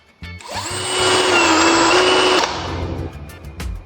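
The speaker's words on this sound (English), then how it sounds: "To use this little tool, we'll need a power drill." A power drill driving a knife-sharpening attachment whirs up and spins steadily with a high whine for about two seconds, then winds down, with faint clicks around it.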